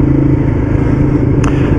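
Big lumpy Ducati Diavel Black Carbon V-twin motorcycle engine, heard as a steady, loud, low-pitched rumble close by that holds at an even level, with a brief faint higher tone near the end.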